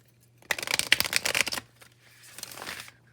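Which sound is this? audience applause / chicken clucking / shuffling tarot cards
shuffling tarot cards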